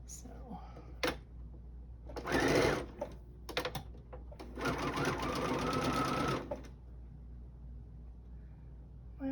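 An aging sewing machine stitching in two separate runs, a short burst and then a longer steady stretch, each with a close mechanical whir and rapid chatter, set apart by quiet pauses and a few small clicks.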